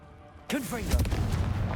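Confringo spell blast in Hogwarts Legacy: a sharp booming impact with whooshing, swirling tones, then a sustained rumbling roar, loud and close, after a brief quiet lead-in.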